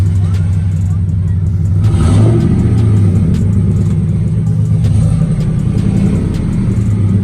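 A deep car engine revs up and down through a large exhaust, loud and rumbling, with a rising surge partway through and a steady low growl throughout.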